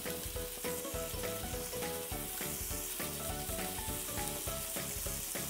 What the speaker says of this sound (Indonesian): Ini kita masak aja hingga airnya menyusut sambil diaduk-aduk